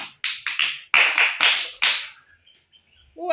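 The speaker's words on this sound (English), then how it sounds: "Clap for him." A small group claps for a child in a short burst of sharp, uneven claps lasting about two seconds, close by, then fades to quiet.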